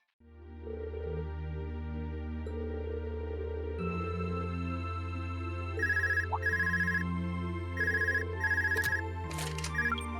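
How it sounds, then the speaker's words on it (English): A phone rings in Trails of Cold Steel 2 over steady, sustained background music: repeated bursts of bright, warbling electronic ringing arrive in clusters, clear and prominent, with no voices. "Phone call."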